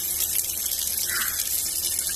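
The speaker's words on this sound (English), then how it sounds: "You just want to keep washing it until the water basically gets really, really clean." Steady running water from a tap while red bladderwrack seaweed is washed in a sink, a continuous close gush with no voices.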